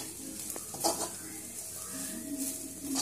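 Onions and pre-roasted masala sizzle steadily in a pan for beef ularthu, with a spoon scraping and stirring close by and a few brief clinks against the pan.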